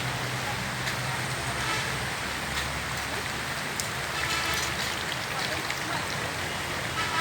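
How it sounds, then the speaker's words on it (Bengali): Steady rain falling, a dense continuous hiss of drops on surfaces throughout, with faint background noise and no clear voices. "এখন কিন্তু বৃষ্টি পড়ছে"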